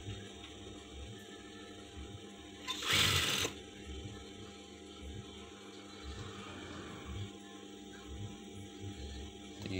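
A sewing machine stitches a front button placket, a steady quiet mechanical whir running throughout with a short louder burst of stitching near the middle.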